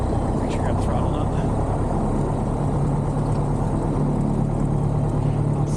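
A small airplane engine runs with the throttle open in flight, a loud, steady, unbroken drone with a low hum that holds for the whole stretch. Indistinct voices may sit faintly beneath it.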